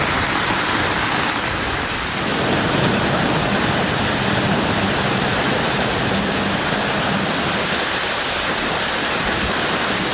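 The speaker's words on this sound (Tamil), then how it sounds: "மாலையில் திடீரென பலத்த காற்றுடன் பெய்த இடி மின்னல் மழை" A sudden evening downpour with strong wind in Vellore roars as a steady, dense hiss of heavy rain, continuous and close, with no distinct thunderclap standing out.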